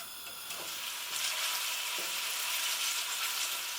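Chopped onions fry and soften in a pan, giving a steady, soft sizzle that holds evenly throughout, with a faint stir or clink now and then and no talking.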